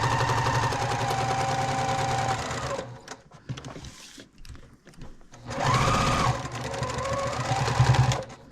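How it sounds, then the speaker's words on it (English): Loud, close sewing machine stitching runs steadily around the raw edges of a fabric project bag, stopping briefly for a few quiet seconds of handling noises before starting up again. "Then we are going to keep stitching all the way around just to hold our raw edges together."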